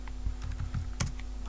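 Keys clatter on a computer keyboard in quick, uneven bursts of close clicks, with one louder stroke near the end, set against a steady low hum and no talking.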